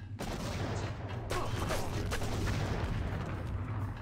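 Gunfire in the video game Deus Ex: Revision comes as loud, dense bursts of shots over a constant low rumble, continuing without pause for the whole stretch.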